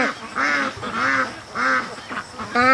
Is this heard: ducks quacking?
yes